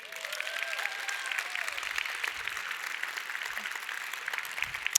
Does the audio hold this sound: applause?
yes